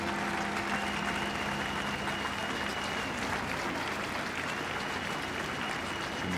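Crowd of several thousand gathered outside the Basilica at Pierre Elliott Trudeau's funeral breaking into steady, sustained applause, a dense even patter heard from a distance throughout.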